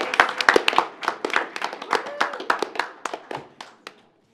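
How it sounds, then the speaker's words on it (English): Applause from a small audience at a county commissioners' board meeting, a loose run of sharp hand claps lasting about four seconds, fairly close and tapering off to silence, with a few faint voices mixed in. "How about uh, one more applause?"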